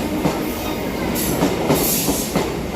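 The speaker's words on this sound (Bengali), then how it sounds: "ট্রেন আমাদের ছেড়ে দিল নৈহাটি জাংশন থেকে" The Teesta Torsha Express pulls out of Naihati Junction, heard from inside the coach: a steady rolling rumble with rhythmic clickety-clack of wheels over rail joints and brief hissing bursts, loud and close.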